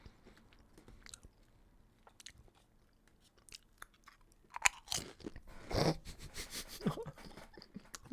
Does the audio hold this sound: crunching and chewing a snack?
yes